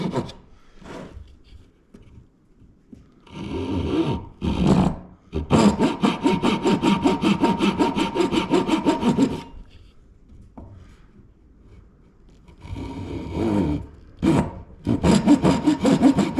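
A hand saw cuts maple and bloodwood for a jewelry box, sounding as loud, close bursts of rapid back-and-forth strokes separated by short pauses.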